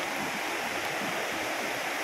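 Water pours steadily from the upper tier of Bolinao Falls, a dense, continuous rushing hiss with no pauses and no voices.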